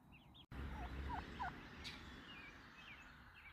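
Several pasture-raised farm turkeys gobble in short, warbling bursts at moderate distance, with a few higher bird calls scattered over steady outdoor background noise.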